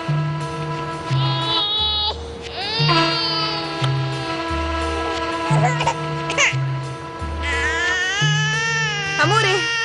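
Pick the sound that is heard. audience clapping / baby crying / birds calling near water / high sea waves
baby crying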